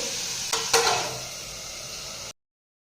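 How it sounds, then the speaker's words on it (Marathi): Tomatoes with salt stir-fried in a pan give a continuous close sizzle, broken by two quick scraping stirs early on, before the sound cuts off abruptly. "मी मीठ घालून पुन्हा परतून ते टोमॅटो शिजेपर्यंत 2 मिनिटं या ठेवत आहे"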